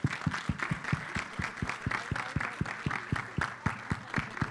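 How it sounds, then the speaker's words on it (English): Rhythmic applause at a film trailer launch event for SARBJIT, with clear, evenly spaced claps in a steady beat against crowd murmur, moderately near and somewhat faint. "Everybody applaud them."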